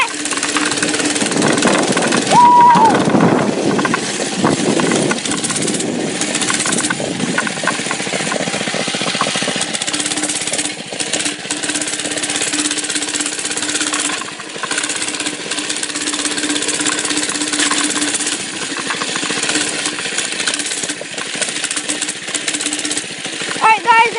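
A mini bike engine runs hard at speed throughout, a steady loud buzzing drone with rattling texture and wind noise, close to the rider, with no speech over it.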